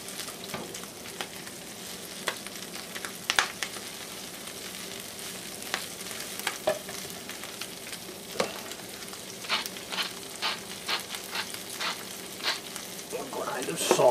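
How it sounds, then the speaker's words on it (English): Food sautéing in a pan for a holiday feast, a steady soft sizzle with scattered clicks and stirring scrapes, fairly quiet and heard alone without talk. "Just want to saute this for 2 or 3 minutes, maybe 4. Just until it softens."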